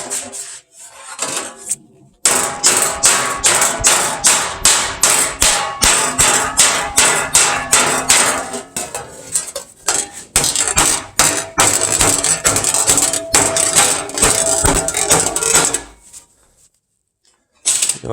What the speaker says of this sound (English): I'm going to have to take a hand hammer to that and finish that roll out.